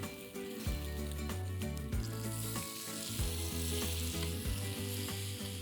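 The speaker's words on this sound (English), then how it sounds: "When the bacon is smartly seared on the bottom" Bacon strips searing on the grate of a smoker grill give a continuous bright sizzle and hiss, with music playing underneath and no voices.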